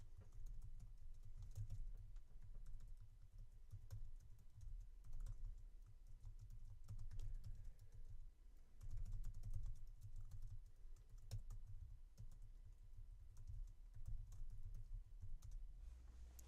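Typing on a MacBook Pro keyboard, a steady run of soft, close key clicks with small pauses, deliberate misspellings, over a low constant hum, no voices.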